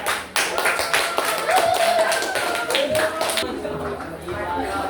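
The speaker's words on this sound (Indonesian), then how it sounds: "Kasih aplaus untuk teman yang udah target." Classmates in an Indonesian language classroom give scattered, uneven applause, with sharp separate claps over the first few seconds before it fades out. Voices talk over the clapping.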